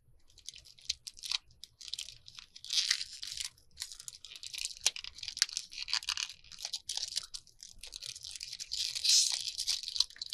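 Tape being peeled and torn off plastic packaging on a haul of cards, faint crinkly tearing and crackling bursts in irregular stretches, close up with no talk.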